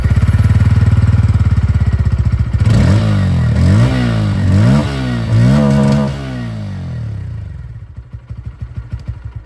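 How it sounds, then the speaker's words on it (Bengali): A 2026 Bajaj Pulsar N160 motorcycle with an underbelly exhaust idles loudly up close, then revs several times in quick rising bursts before dropping back to a lumpy idle. "আপনাদেরকে আমি এখানে একবার এক্সস্টটা শুনিয়ে দিই।"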